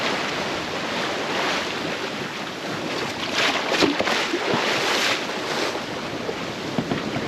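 Sea waves of one and a half to two metres and strong following wind surround a sailboat, with rushing gusts and swelling surf sloshing against the hull, loud and continuous, no talking.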